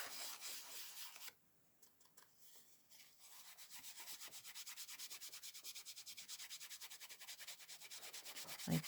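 Excess gold leaf rubbed off a surface after heat and stick powder gilding, a close, soft, steady rhythmic scrubbing that continues after a brief pause near the start.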